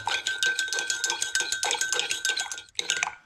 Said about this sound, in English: Just going to give that a stir.